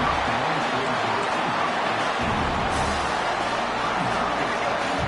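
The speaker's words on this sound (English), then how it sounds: "The crowd really making some noise now" A dense, loud crowd roar fills the whole stretch, a video game stadium of cheering voices in College Football 25 swelling without a break.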